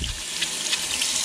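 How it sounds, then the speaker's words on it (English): Warm water from a tap runs steadily over a K&N air filter being cleaned, a close, continuous hissing splash with no voices. "we're going to run the water through from the top"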